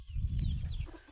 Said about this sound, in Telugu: ఇక్కడ చూడొచ్చు వీళ్ళు కోళ్ళు ఇవి అనమాట